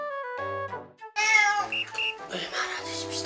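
Elderly cats meow in a house shared by eleven aging cats. Several clear, close meows come one after another, some overlapping into a busier chorus toward the end.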